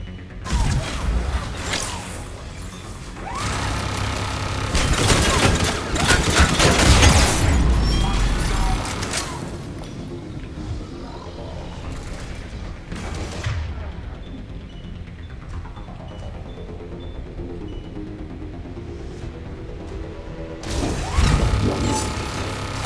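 Turret fire and mechanical clanks burst out in Mass Effect 3 combat, with loud booms, crashes and whooshes in heavy clusters, then a quieter stretch before another blast near the end.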